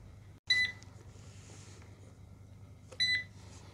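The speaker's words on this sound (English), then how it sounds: "let me stop this beeping." Error beeping from a Eufy RoboVac 11c robot vacuum that has stopped itself: two short electronic beep bursts about two and a half seconds apart, fairly clear over a low background hum.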